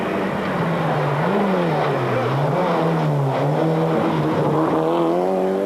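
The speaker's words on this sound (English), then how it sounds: "here's the Renault, really still showing the way home, and very impressive indeed on its debut" A Renault rally car races on a circuit, its engine note loud and continuous, wavering in pitch as it accelerates and lifts through the bends, with a steady roar of rushing noise throughout.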